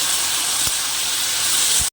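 Boiled pumpkin hits hot oil cooked with spices for a Bengali pumpkin ghonto, giving a steady, close, hissing sizzle that runs evenly for two seconds before cutting off abruptly.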